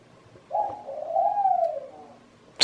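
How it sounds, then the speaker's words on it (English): A caged pet bird indoors gives one long, close, fairly loud cooing call that swells and then fades. "Birds."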